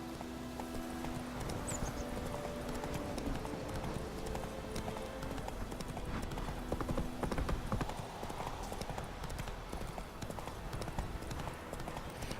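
Horse galloping in the open-world video game The Witcher 3, a steady rapid clip-clop of hooves running through the clip with a brief whinny, over game ambience and music.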